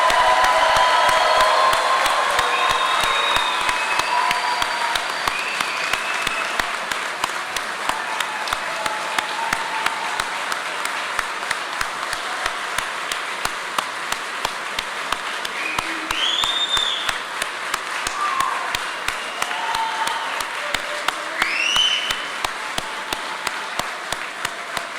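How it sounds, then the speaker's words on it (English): A crowd applauds graduates at a naval nuclear power training class graduation ceremony, with sustained clapping for about twenty-five seconds, occasional whoops and cheers rising over it, and the applause slowly thinning out. "Please give a big round of applause for all of our graduates."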